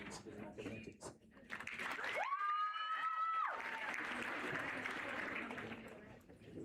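Audience applause breaks out at a school speech and prize-giving day as a student is recognised for achievement in physical education. The clapping is moderately distant, with crowd noise and a brief whistle-like tone, and a voice on a PA system can be heard around it.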